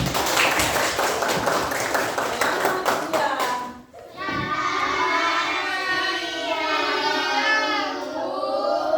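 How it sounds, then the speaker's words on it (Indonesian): Fifth-grade schoolchildren clap their hands together in class, a brisk, loud burst of rapid claps lasting about four seconds, followed by young voices singing or chanting with no clapping. "Boleh tepuk tangan."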